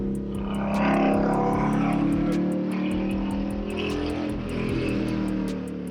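A catless Dodge Challenger exhaust drones steadily at close range, deep and rumbling, with a low throbbing note that swells slightly as the car drives through town.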